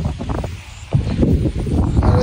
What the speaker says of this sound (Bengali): বাতাসের অবস্থা দেখেন, প্রচন্ড বাতাস